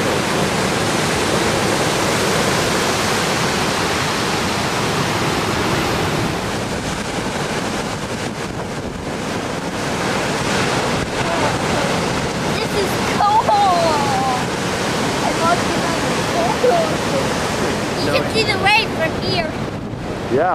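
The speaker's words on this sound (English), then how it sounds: "These big waves." Big ocean waves crashing at a rocky tide pool, a loud continuous roar of surf mixed with wind buffeting the microphone, with faint voices coming through near the end.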